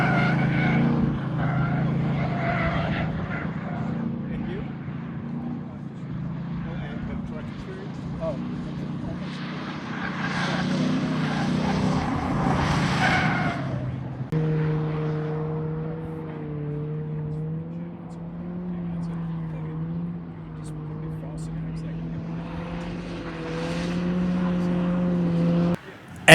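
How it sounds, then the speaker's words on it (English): Cars drifting around a wet skid pad on a track day, with steady engine drone and shifting revs heard at a distance beneath a voice talking over most of it. "But Charlie and Neil did get their cars to drift."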